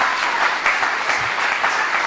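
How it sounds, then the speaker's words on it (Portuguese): A church congregation applauds steadily and fairly loudly, a dense wash of clapping with no speech over it. "Palmas para Jesus"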